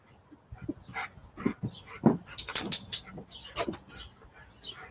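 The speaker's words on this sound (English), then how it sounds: "Now the dog want to play tug of war." A dog playing tug of war, giving short growls, whimpers and scuffling bursts nearby, with sharp rattling clicks partway through and uneven pauses between efforts.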